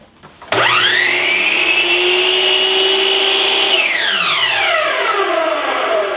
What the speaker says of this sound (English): I'm pretty happy with the saw. It does seem like it takes a little longer to spool up than my 10-inch Cobalt did.